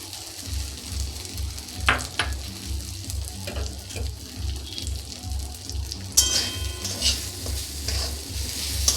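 Mung dal being stirred in a kadai with a little oil, giving scraping strokes and a soft sizzle over a steady low rhythmic hum, with a brief clatter near the end.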